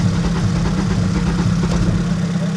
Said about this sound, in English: we're running this car. That's why it's so loud in here.